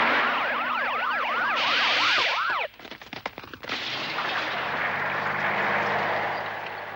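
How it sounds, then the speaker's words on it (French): A cartoon neutron cannon fires with rapid swooping laser-like zaps and chirps, then a crackling burst of blasts, followed by a loud sustained roar that fades, all near and forceful with no talk. "Oh, bonne mère, le canon à neutrons."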